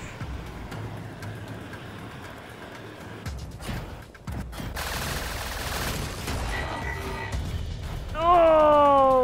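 Gunfire in the Trailmakers video game, a dense stream of rapid shots rattling through a noisy battle scene with engine hum and crashes, and a rising whine near the end.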